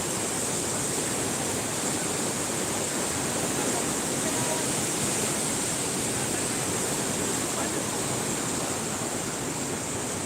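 Steady, loud rushing of a rain-swollen river pouring over an old Kolhapuri weir, a constant broadband roar with no breaks, filling the whole scene.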